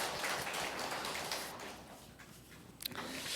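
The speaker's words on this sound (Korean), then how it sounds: "축복의 박수, 격려의 박수 하겠습니다" Applause from a church congregation during a Sunday service, a faint, continuous patter of many hands clapping at a distance that thins slightly toward the end.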